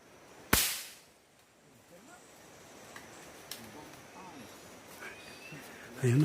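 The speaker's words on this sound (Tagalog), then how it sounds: "Lakas pumusak ng baril ni ano ah." A single sharp gunshot cracks out during a hunt in the mountains, one loud, sudden report with a short decaying tail, followed by quiet outdoor ambience with faint bird calls and a voice near the end.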